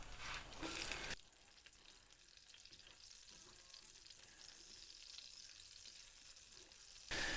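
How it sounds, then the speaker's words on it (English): Peppers fry with garlic in a pan, a soft steady sizzle close by, with louder stirring bursts at the start and end. "I'm going to leave that to fry for a couple of minutes with the garlic, the peppers and the onions."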